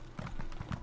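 A horse's hooves clip-clop at a trotting rhythm during a ride in The Elder Scrolls Online, close and clear, with about half a dozen quick hoofbeats.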